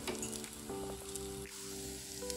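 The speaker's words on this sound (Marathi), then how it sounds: "आता आपण सर्व असे पलटून घेऊयात आणि दुसऱ्या बाजूने लालसर करून घेऊयात।" Chickpea tikki patties shallow-frying in oil after being flipped, a soft, steady sizzle with faint crackles and a few light utensil touches, quiet and close, no one speaking.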